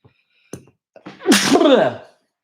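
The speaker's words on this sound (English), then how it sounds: "I sneeze like a bloody horse sometimes" A single loud, explosive sneeze preceded by a couple of quick sharp inhales, close up, with silence around it.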